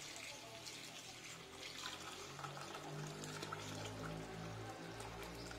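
Water runs continuously into a cooking pot in a home kitchen, a soft, steady splashing pour with low, hollow filling tones, faint and even throughout.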